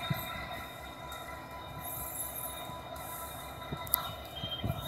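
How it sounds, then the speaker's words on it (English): A mainline freight train hauled by SD70 diesel locomotives approaches Green Street Bridge in Greenville, a steady distant rumble with faint wheel squeal and a few clanks, no voices. "Train 119, approaching the bridge, Green Street Bridge here."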